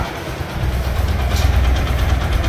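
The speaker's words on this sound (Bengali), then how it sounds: "তো ইঞ্জিনের আলহামদুলিল্লাহ সাউন্ডটা একবার আগের মতো ফিরে আইছে" A 160 4V motorcycle engine idling after a timing chain repair, a loud close steady putter with rapid low pulsing that settles into an even rhythm, no talk.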